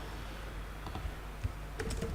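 Code typed on a computer keyboard, with a few scattered key clicks over a faint hiss, the taps irregular and soft, a cluster of sharper strokes near the end.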